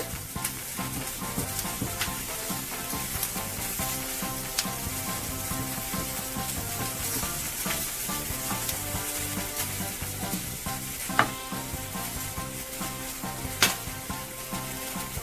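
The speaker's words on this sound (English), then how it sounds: "So while we're grilling our corn, let's check our steak" Steak and corn sizzling on a grill, a loud, steady, close crackling hiss with occasional sharper pops rising above it.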